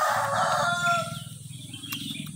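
A rooster crows close by: a single loud, drawn-out call that fades, with a low rhythmic rumble continuing underneath.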